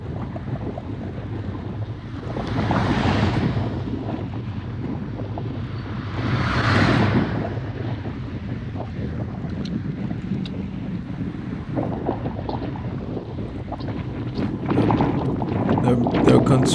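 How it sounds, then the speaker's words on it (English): A crosswind and headwind roar into the microphone on a group bicycle ride along a road. Steady rumbling buffeting swells into louder gusts, with a voice talking over it at times. "So we got the wind coming from the left and in our face."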